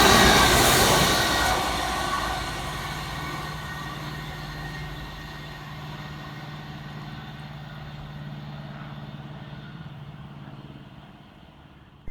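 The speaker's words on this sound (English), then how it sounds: "flying through in the opposite direction is 165 123, working 1 Oscar 68 for Great Western Railway from Reading through to Red Hill" A Great Western Railway Class 165 diesel unit flies through a station near Reading, its loud rumble and engine drone fading steadily as it passes, with no talk.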